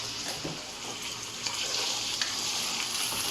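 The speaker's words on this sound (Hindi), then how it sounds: "गोश्त को मैं इसमें करूँगा फ्राई" Mutton pieces frying in hot oil for a Khyber Shinwari karahi, a steady loud sizzle with crackling bursts throughout, close up and without talk.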